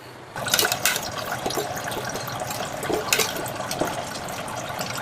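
Water pours and splashes steadily over tamarind in a container, a rushing liquid sound that starts abruptly and continues without pause.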